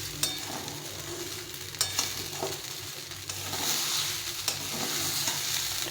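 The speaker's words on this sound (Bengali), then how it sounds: "চালটা অনেকটা ভাজা হয়ে গেছে" Rice frying with turmeric in a pot for khichuri, giving a steady close sizzle with sharp scraping stir strokes at irregular intervals, no voices.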